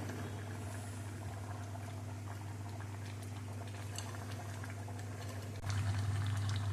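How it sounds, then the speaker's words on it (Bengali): Curry gravy with potatoes for dhokar dalna bubbling in a pot on the stove, a steady close simmering hiss and gurgle throughout, slightly louder toward the end, with no talking. "দেখুন ঝোলটা ফুটে উঠেছে, আলুগুলো সিদ্ধ হয়ে গেছে।"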